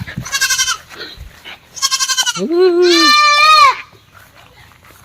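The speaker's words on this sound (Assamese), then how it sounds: "কি হল ছাগলি" A goat bleats loudly three times nearby, two quick wavering calls followed by a longer, drawn-out bleat.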